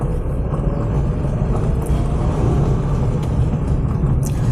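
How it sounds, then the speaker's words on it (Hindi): A car accelerates from a standstill in first gear through city traffic, a steady low engine rumble and road noise holding throughout without speech. "तो चलिए यहाँ पे फर्स्ट गियर में हम गाड़ी को थोड़ा खींचते हैं"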